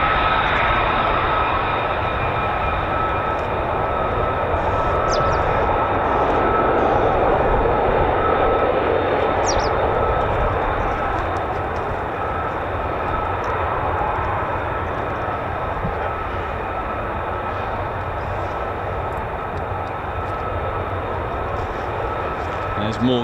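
F-15 or F-35 fighter jets fly past at RAF Lakenheath with a continuous, loud roaring rumble that swells and slowly fades over twenty-odd seconds.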